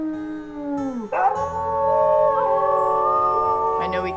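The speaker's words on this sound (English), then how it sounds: "Let's maybe do a quick howl." A wolf pack howls together in the WolfQuest video game, with several long overlapping tonal howls rising and sliding in pitch, close and loud, sustained over the whole stretch.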